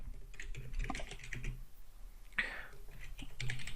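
Close, quiet keyboard typing in short bursts of clicks, pausing between runs, with a brighter clack near the middle and low room hum underneath.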